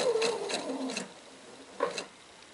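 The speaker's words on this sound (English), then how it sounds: "So I'm going to sew now up to about a quarter inch away from the edge." Sewing machine stitching pillowcase fabric in short bursts, a quick rattling run at first, then a pause and another brief burst near the end, close and fairly quiet.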